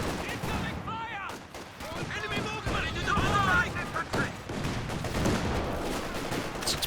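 Gunfire in a World War II strategy game battle as Volksgrenadier infantry shoot on the move, bursts and booms layered under a busy mix of effects and a talking commentator.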